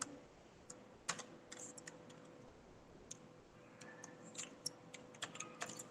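Typing on a computer keyboard while entering data into an MS Excel spreadsheet: quiet, close, irregular keystrokes with bursts of clicks and a few louder key presses.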